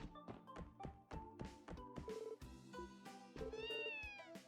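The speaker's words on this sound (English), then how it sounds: "I bet Marie's the most spoiled kitty to ever live." A cat meows in the video game Trails From Zero, a few short mewing calls rising over game music with thumping footsteps and soft clicks, fairly close and clear.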